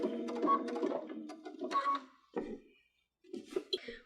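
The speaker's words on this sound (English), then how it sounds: "So if you watch, I'll sew just a few stitches and then adjust" A sewing machine fitted with a double cording foot runs in short bursts of a few stitches, stopping and starting with brief silent pauses between the rapid mechanical chatter.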